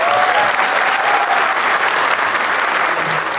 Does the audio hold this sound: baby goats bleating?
no